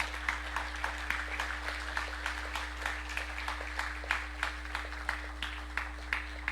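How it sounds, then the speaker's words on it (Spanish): Loud, sustained applause from a church congregation during a Bible study sermon, with dense clapping holding steady under a low steady hum for several seconds. "Palmas fuertes."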